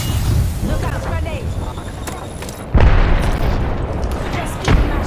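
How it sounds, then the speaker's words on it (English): A grenade blast in the shooter game Apex Legends lands as a sudden loud boom, with a second, smaller burst moments later, over constant rumbling game noise and speech. "Look out, grenade!"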